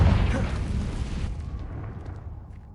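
A Confringo spell in Hogwarts Legacy lands as a single loud, deep blast that rolls off and fades slowly into a low rumble.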